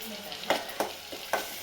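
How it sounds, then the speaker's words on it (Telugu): Vegetables fry in oil for antu pulusu, a traditional Telugu tamarind stew, with a steady close sizzle broken by three or four sharp spatula scrapes against the pan. "ఇది కొంచెం ఫ్రైగా కావాలండి. చూడండి, ఇలా ఫ్రై కావాలి మంచిగా."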